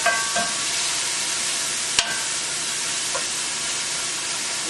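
Diced tomatoes sizzle in a pan while sautéed lemon herb kale is being cooked: a constant, bright hiss, with a couple of short utensil clicks near the start and one sharp tap midway.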